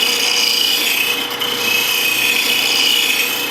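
A sharpening wheel grinds lightly against the back bevel of a blade held in a jig, giving a steady, close rasping hiss that runs unbroken for the whole stretch with only a brief dip midway.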